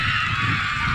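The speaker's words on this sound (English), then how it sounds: "We have the final siren here." A loud final siren ends a women's Division 2 championship Australian rules football match in the USAFL, heard as a brief, steady, blaring horn-like tone with no break.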